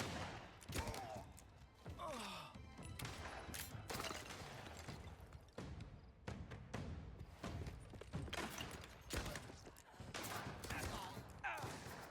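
Bursts of video game gunfire and mechanical weapon sounds come in rapid volleys with heavy thuds, loud and close across the whole stretch, with bits of voice mixed in.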